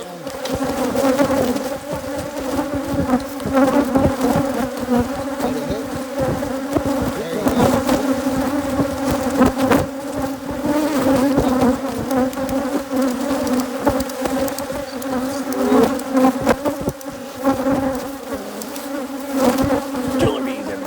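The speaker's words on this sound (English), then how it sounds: "Killer bees, everybody." Africanized hybrid killer bees swarm around an open hive being worked, a dense, loud, continuous buzzing drone with many overlapping wingbeats close by throughout.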